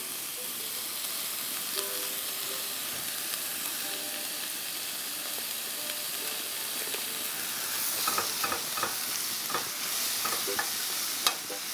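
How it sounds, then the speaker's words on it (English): Garlic sautéing in a pan, a steady soft sizzle and hiss throughout, with light clicking stirring sounds becoming more frequent toward the end, no voices. "you can start the sauteing with the garlic"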